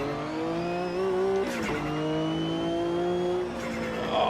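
A Class C race car on a circuit in Spain brakes hard into a tight right-hand corner, its steady engine drone dropping in pitch as it slows, then droning on through the turn at close range. A faint tire squeal accompanies it, and no one speaks.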